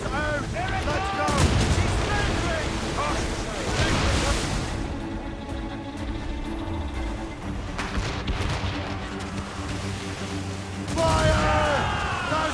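Ship cannons firing in the naval battles of Assassin's Creed Rogue, heavy repeated booms over wind and sea, with crew voices shouting across the battle.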